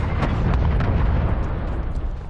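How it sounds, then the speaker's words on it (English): Incoming artillery explodes in a Call of Duty match, a loud, continuous, dense rumble of blasts filling the whole stretch with deep booming and crackling debris, no pauses between impacts. "Hostile artillery targeting active. Net call. Incoming artillery."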